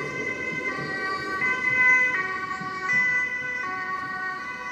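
An ambulance siren wails in a steady two-tone pattern, moderately distant, over a low background of road traffic in the streets of Leeuwarden, Netherlands.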